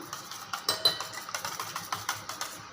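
A fork whisks eggs seasoned with salt and pepper in a bowl, quick, light, rhythmic clinks and taps repeating steadily at close range, fairly quiet, with no one talking.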